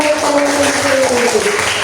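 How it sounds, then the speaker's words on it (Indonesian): A class of students gives a loud, dense burst of applause in a school lesson, continuous overlapping clapping with a voice rising faintly underneath. "beri tepuk tangan dong"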